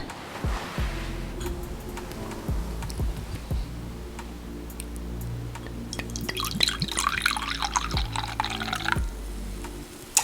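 Blueberry semi-sweet wine from a gift-set bottle is poured into a glass, a steady liquid trickle with small drips and ticks building toward the end over a low, constant background hum.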